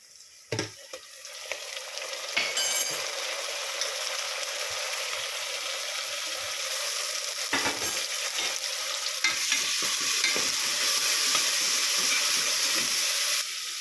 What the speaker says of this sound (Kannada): ಇಲ್ಲಿ ಮೂರು ನಾನು ಟೊಮೊಟೊ ತುರಿದಿರೋ ಟೊಮೊಟೊ ಹಾಕ್ತೀನಿ